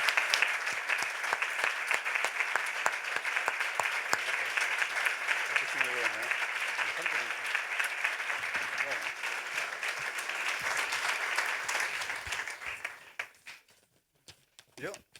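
Sustained audience applause at an awards ceremony, dense and steady for about thirteen seconds before fading out, with voices faintly audible underneath.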